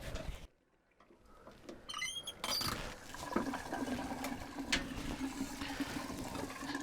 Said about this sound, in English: we're going to open the valve at the bottom of the water heater and drain the water out.